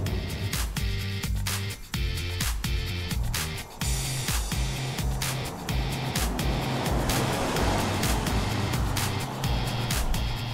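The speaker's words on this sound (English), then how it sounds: "The initial impression of the diesel is that it is a bit rough, but once it's up to temperature, it is quite smooth and quiet" Kia Soul diesel car driving at a steady pace, a continuous engine and road drone under rushing wind, broken by a few brief dips in level.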